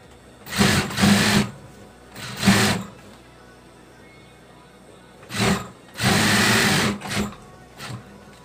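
A sewing machine stitches a baby blanket in short, loud bursts of whirring, with several runs separated by quiet pauses.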